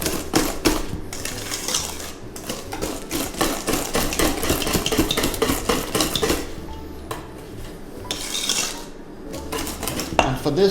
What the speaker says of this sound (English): And then I'm just gonna whisk that in as well.